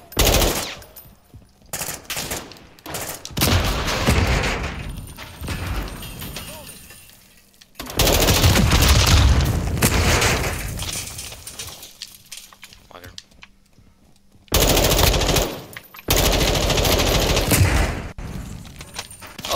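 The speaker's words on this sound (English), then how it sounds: "Oh, he has a grenade launcher. That explains it." Call of Duty: Modern Warfare 2 combat, SWAT versus cartel: bursts of loud gunfire and explosive blasts from a grenade launcher come in several clustered volleys with short quiet gaps, close and harsh, with a voice talking in places.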